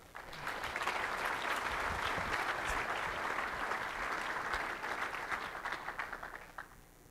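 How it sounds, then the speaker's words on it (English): An audience at a developer conference breaks into sustained applause for a speaker taking the stage, a dense wash of clapping that tapers off into scattered claps at the end. "Give him a big round of applause for Jason McGraw."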